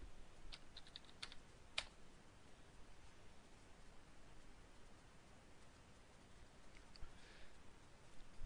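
Soft, faint clicks of typing on a computer keyboard, scattered keystrokes over a low background hiss with no talk.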